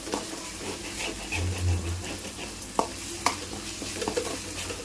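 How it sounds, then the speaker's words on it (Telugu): Ginger, garlic and onion paste fries in a pan for bagara rice and chicken curry, a soft continuous sizzle broken by a couple of sharp clicks from stirring, close and fairly quiet. "అంటే అల్లం వెల్లుల్లి ఎర్రగడ్డ పేస్ట్ మొత్తం బాగా వేగిపోయింది అనమాట"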